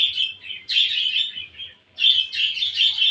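Small birds chirp and call close by in two clustered bursts of bright, rapid tweets separated by a short quiet gap, with no voices.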